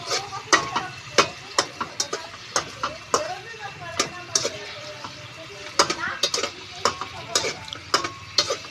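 A utensil stirs and scrapes food in a pan, making repeated close metallic taps and scrapes in an irregular rhythm over a soft sizzle, with brief voices in between.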